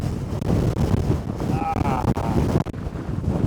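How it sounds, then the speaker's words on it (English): Ferocious wind roars straight into the microphone outdoors in a loud, continuous buffeting rumble that swells and dips, with a faint voice briefly under it. "The wind, man!"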